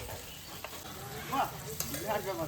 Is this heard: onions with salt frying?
yes